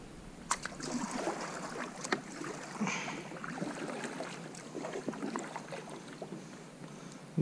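Kayaks glide along Nassawango Creek on an outgoing tide, with continuous paddle splashes and water swishing close by, steady and moderately loud with no talking.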